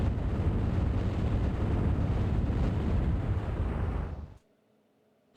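Explosions in the mid-1990s first-person shooter Rise of the Triad, Ludicrous Edition: a loud, sustained roar of blasts for about four seconds, then cutting off sharply to near silence.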